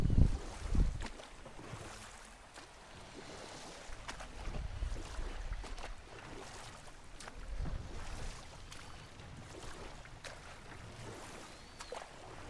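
A boat glides through water in the video game God of War Ragnarok, giving a steady wash of water with wind-like rush and a few soft knocks. It sounds close and continuous, with no talking.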